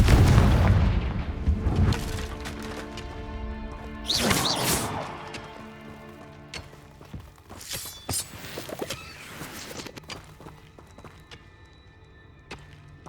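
Confringo blasting spell exploding in Hogwarts Legacy, a burst of heavy booms and crashes with debris, then several smaller cracks and clatters fading into a ringing, echoing space; no voices.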